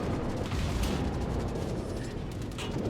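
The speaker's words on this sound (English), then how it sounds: "I take a huge hit from a battleship" A heavy shell strike from a battleship in World of Warships lands as a sustained, rumbling explosive roar, dense and booming low end holding steady for a few seconds with no voices.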